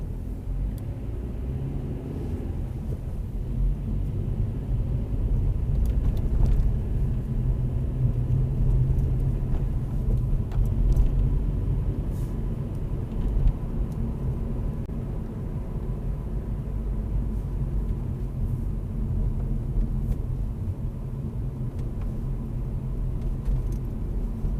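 A car pulls away from a standstill on a hill start in Northampton, a steady engine hum and road rumble continuing evenly throughout, close and moderately loud with no talking.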